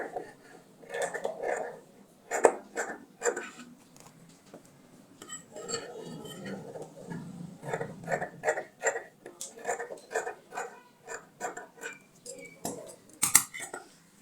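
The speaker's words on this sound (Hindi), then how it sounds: "अब मैंने इस नेक को इसके साइड से थोड़ा थोड़ा कपड़ा रखकर कटिंग कर लेनी है।" Scissors cut fabric to shape a V neck on a dress, giving soft close snips in uneven runs with pauses where the cloth is handled, while someone talks quietly at times.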